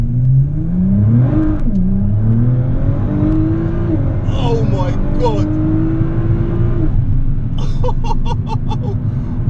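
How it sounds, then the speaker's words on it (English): A 2009 Nissan GT-R R35 revs hard, its engine climbing and dropping through several surges with gear changes, loud and close from inside the car, while a driver exclaims over it. "I cannot believe the power of this car"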